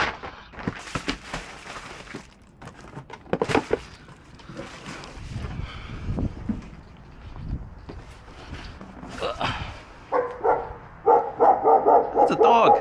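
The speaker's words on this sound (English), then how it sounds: "It's a dog." A dog barks at a suburban house during an Amazon delivery drop-off, several sharp barks scattered over footsteps and handling noise, fairly close, with a short burst of rapid barking near the end.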